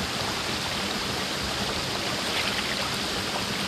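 Steady rushing water from Pito Waterfall fills the space, a constant broadband roar with no pauses.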